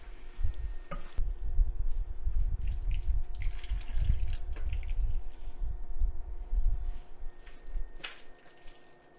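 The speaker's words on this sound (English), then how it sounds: "And I'm just going to do a half a cup of water." Half a cup of water is poured into two cans of drained black beans, giving soft trickling and dripping sounds over a low background rumble.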